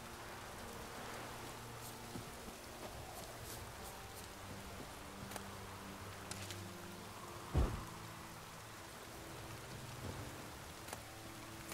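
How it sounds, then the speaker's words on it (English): Steady rain falls in The Witcher 3: Wild Hunt, a soft continuous hiss under a faint game music bed, with one brief louder knock partway through. "Looks like rain."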